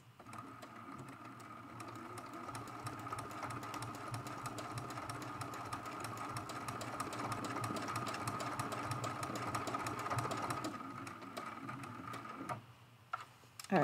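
A sewing machine stitches down a mosaic art quilt from corner to corner, its needle running as a steady, fast, even whir with rhythmic ticking for about twelve seconds, close and clear, before it stops and a few handling clicks follow.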